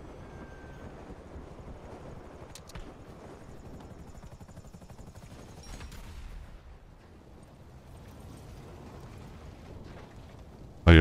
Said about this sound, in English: Oh, your plane's on fire.